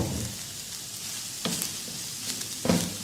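Chicken with added spices and chicken powder sizzling steadily in a pan, a constant close frying hiss broken by a couple of louder stirring scrapes.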